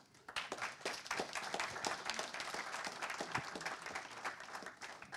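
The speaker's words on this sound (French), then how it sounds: "Vous pouvez les applaudir peut-être." Audience applause at an agile software conference session in Grenoble, a dense burst of clapping that starts abruptly and holds steady for several seconds, fairly loud and close.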